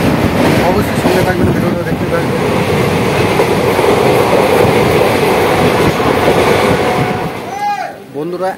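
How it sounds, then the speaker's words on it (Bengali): A passenger train bound for Tarapith runs toward Mollarpur with a loud, continuous rumble and rhythmic clatter close by, easing off near the end. "আমাদের ট্রেন এই মুহূর্তে এসে পৌঁছালো মোল্লারপুর"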